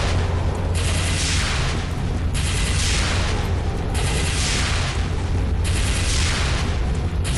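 Rocket explosions boom repeatedly in the shooter SiN: Wages of SiN, with loud blasts about every second over a constant low rumble and no voices.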